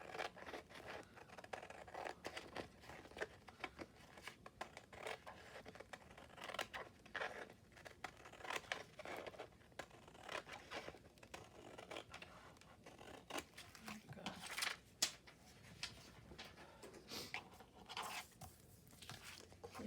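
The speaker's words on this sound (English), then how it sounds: "I'll cut that away." Scissors snip a narrow strip of paper away from a collage-paper craft bead project, a quick run of close, crisp cuts and papery scratches, fairly faint throughout.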